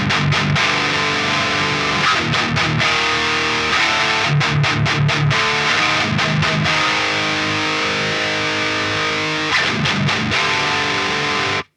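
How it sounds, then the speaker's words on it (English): Electric guitar played through a Fortin NATAS distortion pedal into an amp: loud, heavily distorted chugging riffs with rapid palm-muted stops and sustained chords, alone and close. "that is the NATAS Distortion Pedal"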